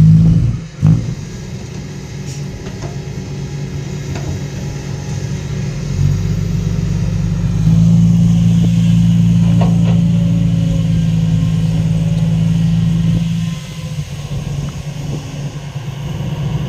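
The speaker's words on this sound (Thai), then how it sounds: "ถอยเทกันใกล้ๆนี่นะครับ6ล้อนี่ท่อลั่นๆทั้งนั้น" Six-wheel dump trucks with loud exhausts reverse nearby to tip their loads. A heavy, continuous diesel rumble swells into a stronger revving drone midway, then eases off. No voices are heard.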